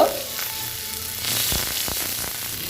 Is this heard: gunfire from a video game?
no